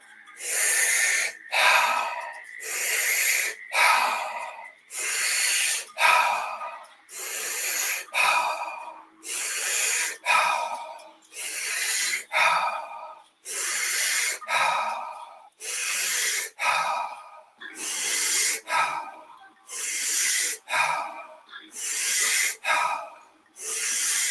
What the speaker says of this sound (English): Continue with funnel breathing, deep into the belly and up to the chest.